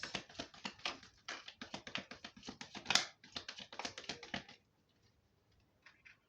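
Tarot cards being shuffled, a rapid run of crisp riffling taps and flutters, close and fairly quiet, stopping abruptly partway through with faint handling after.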